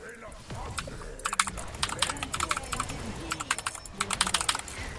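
Rapid clattery keystrokes on a computer keyboard during a gaming session, coming in bursts of quick taps, close to the microphone, mixed with someone talking.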